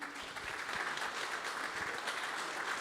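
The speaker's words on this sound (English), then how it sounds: "can we have applause for them?" Audience applause at a candidates forum, a dense, continuous wash of clapping heard from some distance at a moderate, steady level.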